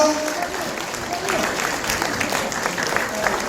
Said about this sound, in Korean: 박수 한번 한 박수 부탁드리겠습니다